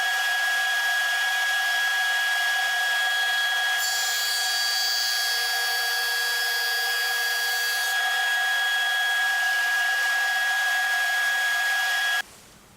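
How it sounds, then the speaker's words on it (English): A drum sander flattens an end grain wooden cutting board, giving a steady loud whir and broadband sanding hiss that brightens mid-run, then cuts off abruptly near the end. "we'll be able to set this down in the drum sander and sand it smooth, flattening out the board for the final time"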